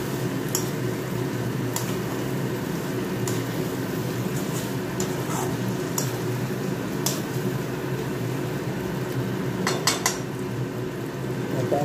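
Potatoes going into a pot of mutton curry cooking in released oil, a low steady simmer-sizzle with occasional sharp clinks and scrapes of a utensil against the pot.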